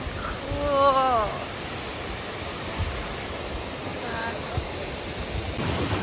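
A waterfall and river near Mt. Shasta rush in a loud, steady, broad roar with wind buffeting the microphone, and a voice briefly speaks early on.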